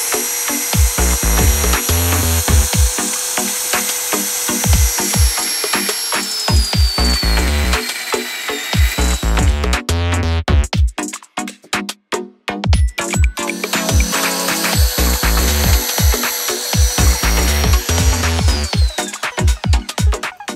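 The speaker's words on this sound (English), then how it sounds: "So I'm going to grind this now." Power grinding on a BMW E36 GT wing end plate, a loud continuous abrasive whine that rises and falls as the tool presses and lifts, briefly cutting out midway before resuming, with no talk.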